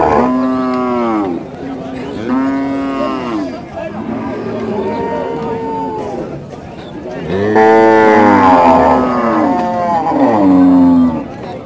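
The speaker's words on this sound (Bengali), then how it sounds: "গাই গরুটা কার" Cattle lowing at a busy weekly cattle market in Rajshahi, where dairy and large local cows are sold; several long, loud, close moos follow one another, overlapping near the end, with crowd noise behind.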